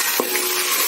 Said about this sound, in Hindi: अच्छे से अदरक लहसुन को अच्छा भूनने पर हम इसमें मसाला ऐड करेंगे